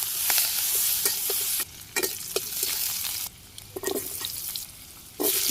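Cumin and chopped onion fry in hot oil in a home kitchen with a loud, close sizzle, broken by clattering stirs and short quieter pauses.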